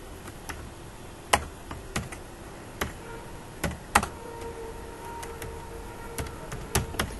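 Keys tapped on a computer keyboard while remarks are entered into business software, in irregular clicks and short bursts, close and fairly quiet with no voices.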